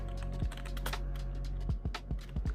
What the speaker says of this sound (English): I'm not used to videotaping myself typing